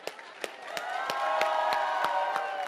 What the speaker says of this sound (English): Let's clap so loudly that the producers in LA can hear it.